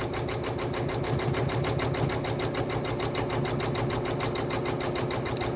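A sewing machine stitches long basting stitches through a layered quilt in an embroidery hoop, running loud and steady with a fast, even rhythmic chatter that strains slightly over thick seams, with no talking.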